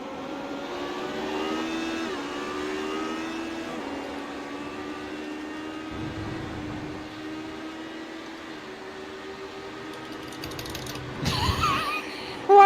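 Race car gear shifts in the iRacing sim at Silverstone: a steady engine drone with harmonic whine carries on, broken by mechanical clunks and a louder rough burst near the end.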